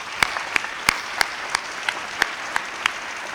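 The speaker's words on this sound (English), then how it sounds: "Sure, a round of applause." At a community foundation's awards celebration, an audience claps in a steady, evenly spaced rhythm of sharp claps, about three per second, heard without voices.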